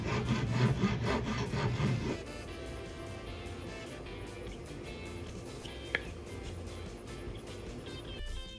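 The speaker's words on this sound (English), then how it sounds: "I definitely like using the pull saw." A pull saw cutting a wooden Bowie knife, with quick rhythmic rasping strokes for about two seconds, then quieter scraping and handling noise with a small tap near the end.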